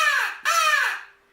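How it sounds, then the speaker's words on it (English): A crow call blown as a turkey locator, two loud harsh caws in quick succession, the second trailing off, close and alone. "We got some crow calls."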